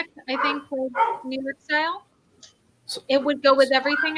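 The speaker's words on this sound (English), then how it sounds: "Sorry, if you hear my dog in the background right now" A pet dog barks and yips in short bursts at home, close and fairly loud, mixed in with a person talking.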